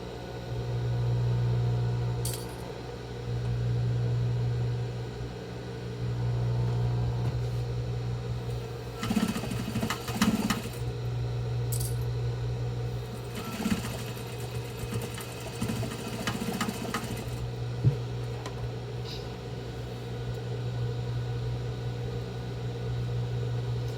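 A sewing machine runs while stitching the seam of a box-style fabric face mask. It gives a steady mechanical hum with short pauses early on, then louder bursts of rapid needle clatter and handling noise in the middle.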